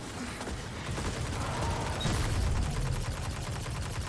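Auto rifle firing in Destiny 2 during the Shattered Realm Forest of Echoes mission, rapid repeated shots in fairly quiet bursts with mechanical clatter and game ambience underneath.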